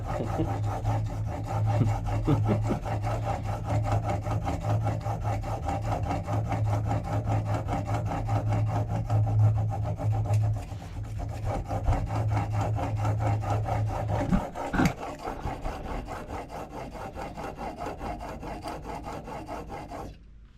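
A steel planer blade rubbed back and forth on a sharpening stone of unstated grit, giving a steady, close scraping and rasping that runs continuously with a brief break near the end.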